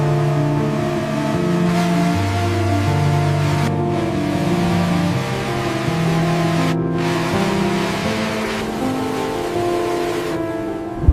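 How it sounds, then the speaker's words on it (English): A sports car floored on a dark highway, its engine roaring steadily with rising and stepping gear pitches, loud and close for the whole stretch with no talk. "you jump into your sports car and floor it on the dark highway"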